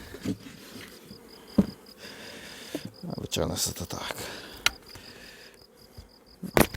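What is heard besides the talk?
honey bees buzzing at a beehive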